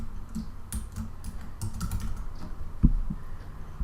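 Rapid computer keyboard typing while a password is entered, a quick irregular run of close, crisp key clicks with brief pauses and one louder tap near the end.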